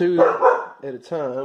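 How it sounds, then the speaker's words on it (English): A dog barks a few short times close by, mixed in with someone talking. "Pardon the dog, she's found something she doesn't like."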